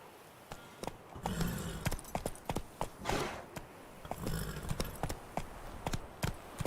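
Roach the horse in a video game, hooves clip-clopping in a clear, regular walking rhythm, close and fairly quiet against a soft ambient background.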